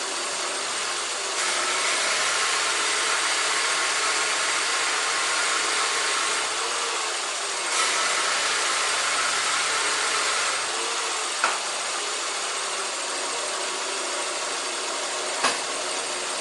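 The engine of a 1997-1999 Toyota Corolla runs during a power steering fluid change. It gives a steady, moderately quiet hiss-like drone with a couple of faint clicks, and no voices.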